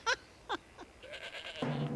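Short, quiet bleats from a baby goat, two quick calls followed by a fainter one and a longer wavering cry, close by with soft background noise.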